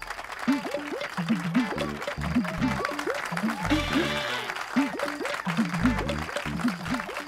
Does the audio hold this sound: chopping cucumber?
no